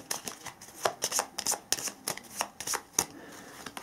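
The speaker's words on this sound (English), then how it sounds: "So I now shuffle my discard pile." A discard pile of playing cards is shuffled by hand in a board game, giving a rapid series of crisp riffling bursts, close and clear, with no talking.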